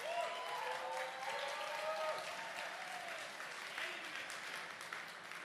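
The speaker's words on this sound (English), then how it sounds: "Can I get a big round of applause, please," Audience applause for competitors at a live bartending competition: steady, dense clapping from a crowd throughout, with a faint voice murmuring underneath.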